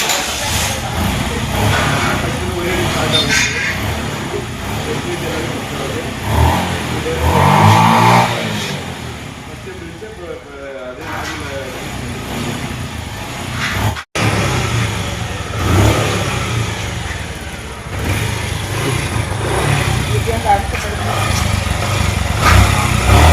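A Suzuki Hayate motorcycle with a fresh CDI coil fitted starts and runs, its engine note revving and idling steadily close by, with a brief break midway.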